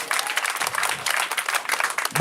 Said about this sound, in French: On applaudit très fort Charlie Tokore